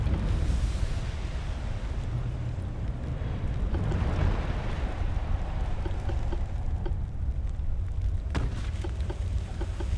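Naval secondary guns fire in the warship game Ultimate Admiral: Dreadnoughts, with rumbling sea and wind ambience and a sharp, distant-sounding gun report near the end.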